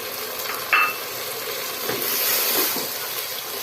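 Tomatoes and yogurt go into a frying masala, giving a close, continuous hiss and sizzle. The sizzle swells briefly as the wet ingredients hit the pan, with a short clink near the start.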